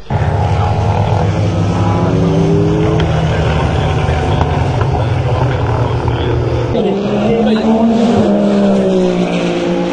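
Toyota prototype race cars at the Le Mans 24 Hours free practice drive past a raised trackside spot, a loud sustained engine roar whose pitch slides as they go by, with a second car's note rising near the end.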